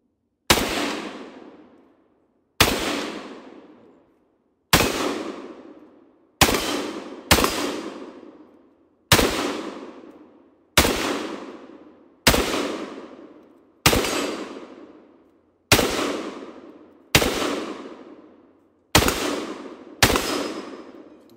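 Gunshots fired downrange with a Witt Machine & Tool SME, about a dozen loud, sharp cracks spaced a second or two apart, each followed by a short fading echo.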